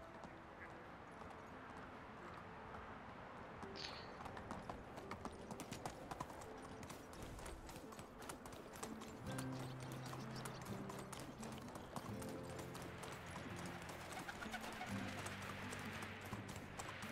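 Horse hooves clip-clop steadily at a walking pace through the medieval countryside of Medieval Dynasty, a continuous rhythmic patter of hoofbeats with no voices over it.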